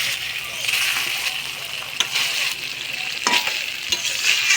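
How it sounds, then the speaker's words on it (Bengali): Fried eggplant stirred with spices in a pan for a Bengali dish, a continuous close sizzle with repeated spatula scrapes and a sharp knock or two. "এবার বেগুনটা মশলার সাথে হালকা হালকা করে নাড়িয়ে নিব।"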